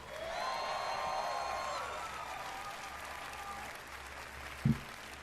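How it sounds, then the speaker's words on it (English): An audience at Bethesda's E3 2018 showcase applauds Todd Howard, a moderately loud spread of clapping and light cheering heard at a distance, with a brief louder knock near the end. "Another round of applause, please, for Todd Howard."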